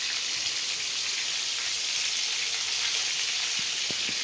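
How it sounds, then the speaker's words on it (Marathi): Street-style crispy-coated jumbo prawns fry in a pan with a steady, even sizzle of hot oil that holds without pause throughout, no voices. "आपण दुसऱ्या साईडने देखील अशीच छान फ्राय करून घ्यायची आहे."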